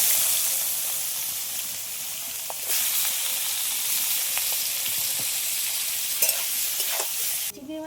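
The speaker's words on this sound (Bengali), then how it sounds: "চিংড়ি মাছগুলো একটু এরকম হালকা করে ভেজে নিয়েছি" Prawns seasoned with salt and turmeric sizzle and hiss steadily as they fry lightly in hot oil in a pan, a close, continuous crackle with occasional sharper pops and no talking.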